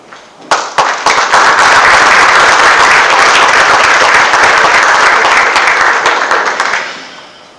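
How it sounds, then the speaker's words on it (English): Audience applause welcoming a speaker to the podium at a grid economics and policy conference: dense, loud clapping swells in quickly, holds steady for several seconds, then tapers off. "thank you for that applause"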